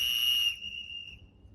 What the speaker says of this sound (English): When you hear the whistle, it means stop shooting and unload all guns.